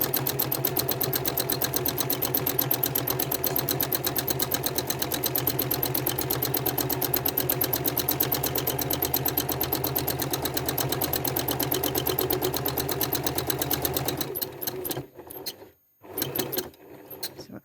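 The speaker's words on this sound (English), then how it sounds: "it is a little bit easier to stitch with the hopping foot in a straight line if you're sewing as your normal sewing action" Sewing machine with a hopping foot doing free-motion quilting, running loud and steady for about fourteen seconds before stopping and starting in a few short bursts.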